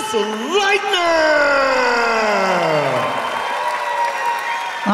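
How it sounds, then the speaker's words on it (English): Arena crowd at a Free Fight Championship (FFC) MMA event in Linz applauds and cheers after a first-round knockout, a loud sustained roar with a rising, wailing siren-like tone sweeping over the noise. "Absolutely fantastic applause for both fighters"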